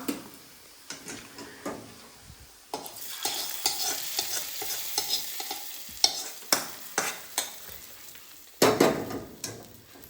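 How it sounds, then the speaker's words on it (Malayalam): Onion and curry leaves frying in hot oil, then poured into a Kerala-style chicken stew, giving a close crackling sizzle with bursts of spitting and scraping stirs, no talking. "ഇത് നമുക്കൊന്ന് കറിയിലേക്ക് ഒഴിച്ചു കൊടുക്കാം."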